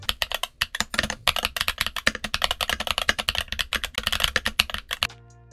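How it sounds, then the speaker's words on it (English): Quick, steady typing clatters on a Redragon mechanical keyboard fitted with Princess Tactile switches and double-shot Cherry-profile ABS keycaps, a dense run of crisp keystrokes heard up close that stops abruptly near the end. "I went ahead and did a sound test with just the Princess Tactile switches, as well as the double shot Cherry ABS keycaps."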